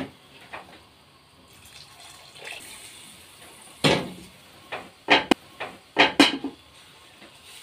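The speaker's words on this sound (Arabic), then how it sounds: "انا ما عنديش شوربه كتير فحطيت شويه من الميه، وهزود شويه برضه من الشوربه." Water and soup poured into a pot of rice in a home kitchen, with a few short splashy pours and clanks of a pot or lid among quiet background.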